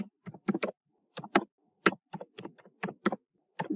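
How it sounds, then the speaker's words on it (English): Someone types a search phrase on a computer keyboard, producing close, crisp keystrokes in short uneven bursts separated by brief silences, with no speech. "So here I'll just type free online course"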